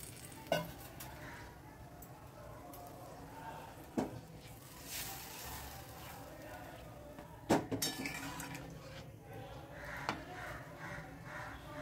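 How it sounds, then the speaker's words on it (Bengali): A metal spatula scrapes and clinks against a pan while Bengali hilsa fish curry is stirred, a few distinct sharp knocks spaced apart over a soft, continuous sizzle. "এবার একটু খুন্তি দিয়ে সরিয়ে দিচ্ছি।"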